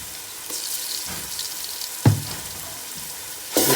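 Ginger garlic paste with turmeric frying for a Telangana-style mutton head curry: a soft, steady sizzle runs throughout, broken by a few stirring scrapes and a sharp clatter near the middle, with no talk.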